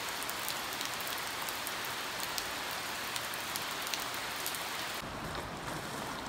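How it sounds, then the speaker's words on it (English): Steady rain falls on a tropical homestead in July, a dense continuous patter on surfaces that stays close and even throughout, with no talking. "Someone likes the rain."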